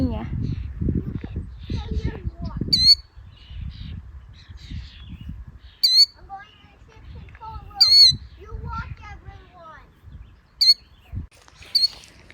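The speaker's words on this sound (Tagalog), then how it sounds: "May ibon oh." A bird gives sharp, high repeated calls and squawks, several bursts spaced a second or two apart, close and clear, while people talk quietly and a low rumble runs underneath.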